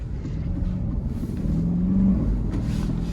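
Aston Martin DBX707 with a 707-horsepower engine, driven in GT mode, a deep, steady interior engine drone that swells slightly in the middle, heard from inside the cabin with no talk.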